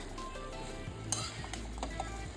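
Vegetables for Bengali shukto, including fried eggplant, being stirred with spices in a frying pan, giving a steady low sizzle with soft scraping strokes and an occasional light clink of the utensil, close and without talk.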